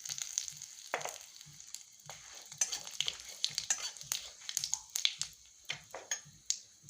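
Bay leaf, dried chilli, black cumin and cardamom tempering in hot oil, faint crackling sizzle with quiet irregular pops and soft rhythmic taps throughout.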